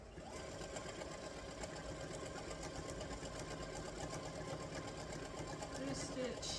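A sewing machine runs steadily throughout, quilting stitches on a CRK print fabric at a small 1.8 stitch length, a continuous close mechanical whir with a slight rise near the end.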